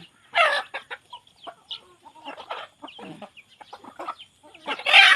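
Chickens cluck close by in short, uneven bursts, with higher chick-like peeps mixed in and louder squawks near the start and end.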